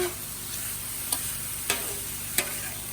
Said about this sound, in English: I'm incorporating the onions, garlic, ginger, and carrots. Gonna fold it in.